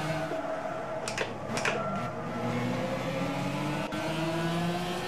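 Race car engine from Gran Turismo 6 driven with a manual gearbox, a steady droning hum with rising and falling tones and brief bursts, moderately loud and heard without talk.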